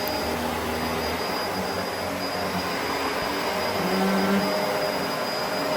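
A Bissell vacuum cleaner runs with its brush bar on, giving a steady, close, even drone with a thin high whine that swells slightly near the end. No voices.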